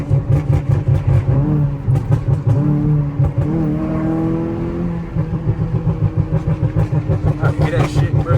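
A Chevy Malibu engine revs loudly in neutral at a red light, rising and falling in pitch over steady idle rumble, with someone talking over it throughout.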